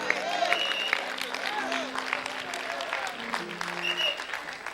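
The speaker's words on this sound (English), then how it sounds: "Now somebody ought to clap your hands right now." Church congregation clapping together during a sermon, a steady dense patter of hands under ongoing voices and music.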